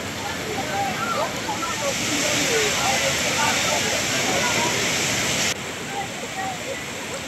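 Floodwater after cloudburst-like heavy rain rushes over a submerged bridge near Dhorgaon, a loud, steady roar of turbulent water close by that dips slightly in level near the end.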